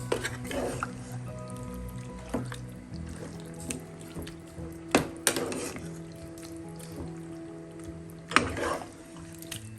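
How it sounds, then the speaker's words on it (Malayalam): Water is added to chicken curry in a pan, giving soft pouring, sloshing and wet squishing sounds, with occasional clinks of a spoon stirring. No voices. "ഈ സമയം നമുക്ക് അരക്കപ്പ് വെള്ളം കൂടെ ചേർത്ത് ഒന്ന് ഇളക്കിയ ശേഷം ഉപ്പൊന്ന് നോക്കാം"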